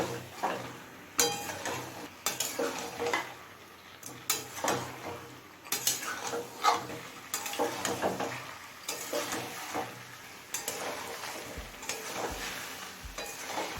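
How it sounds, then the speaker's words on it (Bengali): Chicken liver, stomach and potatoes are stir-fried in a pan over medium flame, with steady sizzling and repeated scraping and clinking strokes of a spoon against the pan, close and moderately loud, with no talking. "এবার এই সমস্ত কিছু মিডিয়াম ফ্লেমে খুব ভালোভাবে কষিয়ে নেব"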